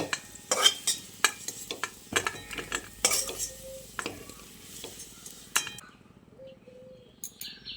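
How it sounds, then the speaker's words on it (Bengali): Potatoes fry in mustard oil in a wok over a high flame while a spatula stirs them, making irregular metallic clinks and scrapes over a soft, close sizzle, with no talking. "আলুটাকে হাই ফ্লেমে একটু লালচে করে ভেজে নিচ্ছি"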